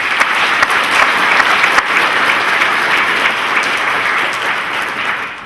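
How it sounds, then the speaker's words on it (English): An audience at a Navy medical laboratory technician graduation ceremony applauds the color guard, a loud, sustained wash of clapping from a large crowd without speech. "Give them a round of applause as well."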